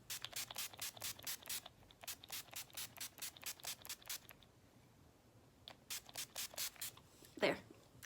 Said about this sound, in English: the last thing I do is use this NYX Matte Finish Setting Spray.